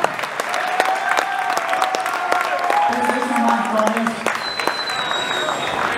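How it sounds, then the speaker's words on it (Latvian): An audience at the KSPROFL #6 MMA event in Jūrmala applauds Sigurds with steady, dense clapping that lasts throughout, while someone speaks briefly over the crowd. "Uztaisam aplausus Sigurdam."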